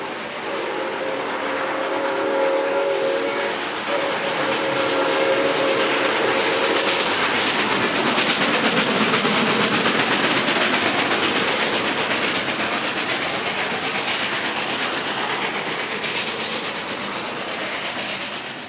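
Santa Fe steam locomotive 3751 works hard nearby, loud chuffing with a brief whistle at the start, steady and continuous, no voices.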